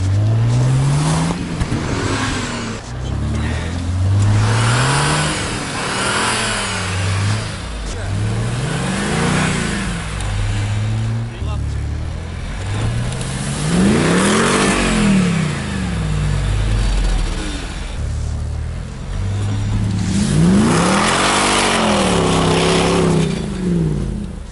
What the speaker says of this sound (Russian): Как они такой выхлоп сделали, что так звучит?